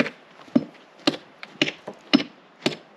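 Sharp wooden knocks from a hammer pulling nails out of wood repeat about every half second, with lighter taps between, close by and fairly quiet.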